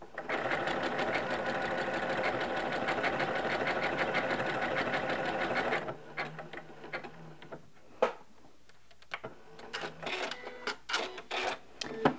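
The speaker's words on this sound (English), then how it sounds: "you probably heard the machine kind of slow down a bit" A Janome M17 sewing machine runs decorative stitches in a loud, fast, even mechanical rattle that stops abruptly midway. Scattered clicks and knocks follow as it slows to lock the stitches.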